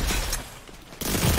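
Loud shotgun blasts in a video game PVP firefight: a sharp broadband report at the start, a quieter stretch, then a second heavy blast near the end, with no talk over it.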